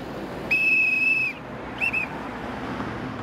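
A traffic police officer's whistle on a city street: one long shrill blast lasting nearly a second, then a short second toot, over steady traffic hum.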